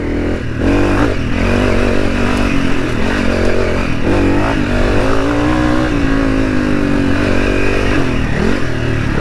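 A Honda CRF300 dirt bike in stage 4 setup revs hard climbing a rough bush hill in second gear, loud and close, its engine note rising and dipping with throttle blips and a clattery, continuous roar.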